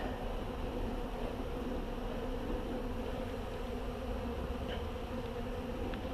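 Honeybees hum steadily around the entrance of a hive, a dense, continuous buzz close by with a few brief higher whines of single bees passing near.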